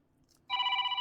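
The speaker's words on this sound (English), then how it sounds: "Oh, the phone." A telephone starts ringing abruptly after a moment of quiet, giving a loud, steady electronic ring tone close by, with no voices.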